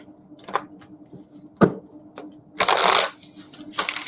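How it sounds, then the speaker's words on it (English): Tarot cards are shuffled by hand in a run of soft, papery riffles and slides, with one longer, louder burst partway through and more shuffling toward the end, all close and without talk. "Let me shuffle my cards really good first."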